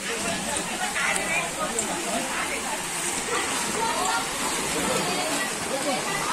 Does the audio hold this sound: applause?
no